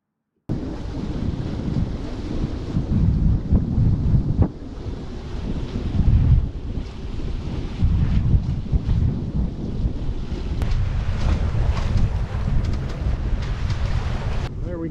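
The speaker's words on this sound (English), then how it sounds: "Oh, the wind! Oh, we got 8 knots of true wind straight from the south." Wind buffeting the microphone aboard an F27 sailboat in about 8 knots of southerly wind, a loud continuous roar with gusty swells and water wash, lasting throughout.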